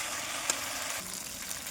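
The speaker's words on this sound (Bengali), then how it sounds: "বন্ধুরা দেখো এদিকে কিন্তু খুব সুন্দর করে কিন্তু মশলাটা কষানো হয়ে গেছে।" Spice paste sizzling as it fries in a pan during Bengali-style curry cooking, a steady broadband hiss holding evenly throughout with one brief pop near the start.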